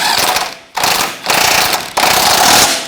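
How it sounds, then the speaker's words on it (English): A 21mm socket wrench snugs up the rear control arm bolt on a 2007-2017 Jeep Patriot 2.4L, making loud, close ratcheting clicks in three long bursts separated by brief pauses. "So now let's snug up that rear bolt, and that's 21mm socket and wrench."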